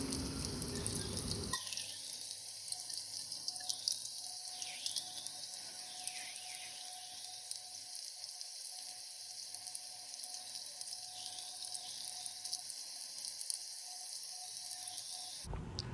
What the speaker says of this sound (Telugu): యాడ్ చేసి ఫ్రై చేసుకుందాం గోల్డెన్ బ్రౌన్ వచ్చేంత వరకు.